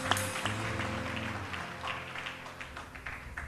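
Congregation applause at a church worship night service, a dense broadband clatter of many hands clapping together with musical tones sustained underneath, steady and fairly loud throughout.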